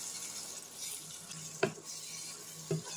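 Watermelon rind fried with Kashmiri red chilli in a pan, a faint steady sizzle with two sharp spatula knocks against the pan.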